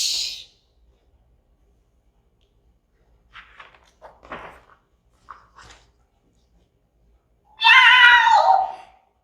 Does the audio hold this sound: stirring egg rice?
no